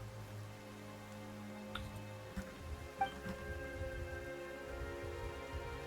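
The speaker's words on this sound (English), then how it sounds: "Why is it raining all of a sudden?" Steady rain falls in a Genshin Impact-style fantasy game set in Fontaine, a soft continuous patter beneath low tonal game music, with a few faint thuds and chimes.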